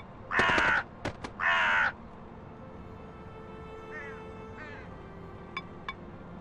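Crow cawing in the video game Elroy and the Aliens: two loud, harsh, drawn-out caws with short clicks between, then fainter chirps and ticks over a quiet background hum.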